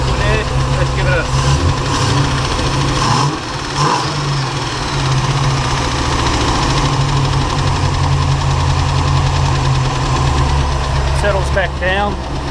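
A Holden HT Monaro V8 fitted with FiTech fuel injection runs close and loud with a steady idle, briefly dipping and picking back up, and a voice speaks near the end.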